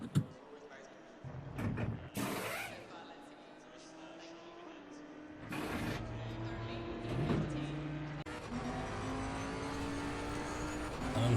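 A race car in Assetto Corsa Competizione at Spa revs and accelerates during a pit stop, its engine rising and falling with sharp gear changes and surges, steady and fairly close throughout.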